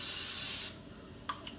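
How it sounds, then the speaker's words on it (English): A sustained hiss of Pam non-stick cooking spray on a baking mat lasting under a second, then quiet with two small clicks or taps afterward. "And I just sprayed it with some Pam."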